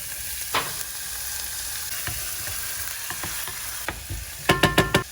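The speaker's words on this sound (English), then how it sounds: "Start with adding the garlic." Garlic sizzles steadily in a hot pan for honey soy garlic Korean fried chicken, a constant hiss broken by scattered utensil clicks and a burst of sharper scraping knocks near the end, with no talking.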